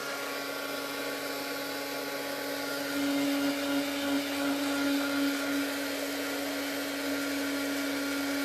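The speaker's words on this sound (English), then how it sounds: "I always have my heat tool nearby." A heat tool blows steadily to dry a mixed media Christmas planner page, a continuous whirring hum with a droning tone that swells slightly midway, close and fairly loud with no talking.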